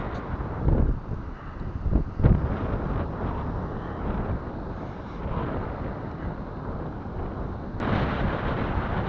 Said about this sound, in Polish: Wiatr wieje i zwiewa.